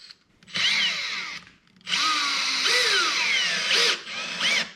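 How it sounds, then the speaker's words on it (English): A power drill bores into hard material in a workshop, whining in two long bursts with a short pause between, pitch wavering as the bit bites, loud and close. "These are very hard to drill, these holes."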